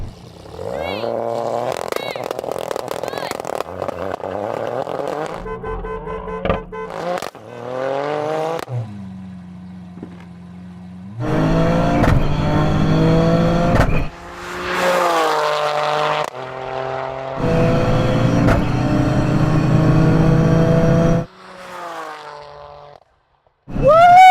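A 600 hp GR Yaris and a Lamborghini Aventador SV drag race, engines revving hard and roaring through accelerating gear changes, with bursts of acceleration, brief lulls, then renewed full-throttle runs.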